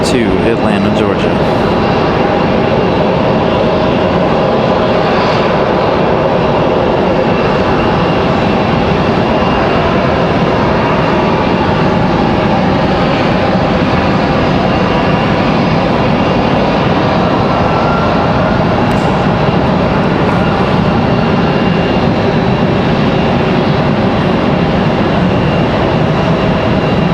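A Delta jet airliner, flight 3238 departing Raleigh-Durham for Atlanta, fills the air with a loud, continuous engine roar carrying a steady tonal hum, sustained throughout while a voice talks over it.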